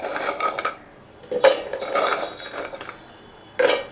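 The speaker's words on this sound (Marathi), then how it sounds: "ही आहे ती बिस्किटं मी आता या मिक्सरच्या भांड्यात घालून घेणार आहे" Oreo biscuits dropped into a mixer jar, a few short clinking, clattering bursts close by separated by quiet gaps.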